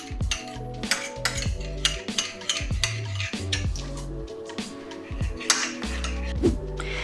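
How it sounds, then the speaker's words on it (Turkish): A spoon stirs a spoonful of yogurt into a portion of milk for homemade yogurt, with steady rhythmic scraping and clinking against the container, close and repeated strokes, no one speaking. "bir çorba kaşığı kadar yoğurdumuzu bu ayırdığımız sütü içine katarak güzelce özümseyerek karıştırıyoruz"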